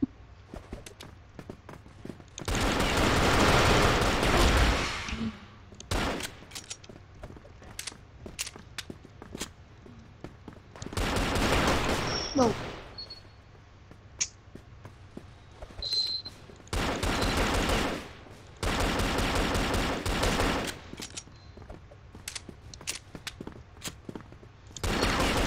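Dual Colt pistols in the video game CrossFire fire in several long rapid bursts, loud and dense, broken by short pauses with small clicks and footsteps between them.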